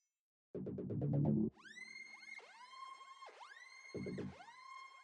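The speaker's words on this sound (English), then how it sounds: "So we have a long white noise made with analog." Analog synth patch blending a short buzzy tone burst with long sustained noise and rising, sweeping tones that repeat in waves, upfront and fairly loud with no speech over it.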